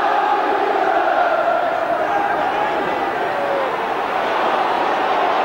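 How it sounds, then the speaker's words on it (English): A football stadium crowd roars continuously after a Tottenham header goal against Sheffield United in a 1993/94 match, a loud, dense, distant-sounding wash of cheering that swells and holds throughout. "header, beautifully directed by Kevin Scott, and the crowd respond"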